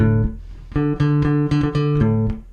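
A bass guitar played with a pick: short notes with a firm, slightly percussive attack play alone at a steady, rhythmic pace.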